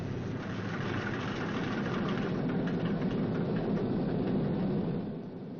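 A newly installed B-29 Superfortress engine roars steadily up close, a loud, dense, unbroken drone with no pauses and no voices.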